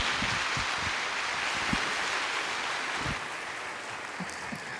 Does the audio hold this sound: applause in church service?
yes